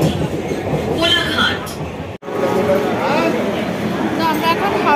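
Local train on the Panskura–Howrah line, running steadily with a continuous rumbling roar and faint rattling throughout, loud and close as from inside a carriage, with voices chattering beneath; a brief dropout interrupts it midway.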